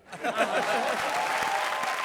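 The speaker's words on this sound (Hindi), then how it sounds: "तालियां" Audience applause at a Hindi comedy show, a steady, dense clapping from a studio crowd that rises quickly and holds for about two seconds, with faint voices mixed in.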